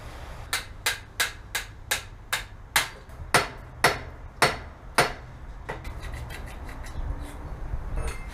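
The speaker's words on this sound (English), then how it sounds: "The old bigger hammer trick." About a dozen sharp metallic hammer strikes land in a steady rhythm, close and loud, followed by quicker, lighter taps and some scraping.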